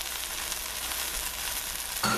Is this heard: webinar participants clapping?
no